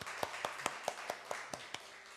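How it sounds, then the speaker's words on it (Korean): A small Korean church congregation at a Sunday service claps in steady unison to welcome newcomers, giving about ten evenly spaced, fairly quiet claps in a short rhythmic run. "박수 한번 쳐주세요."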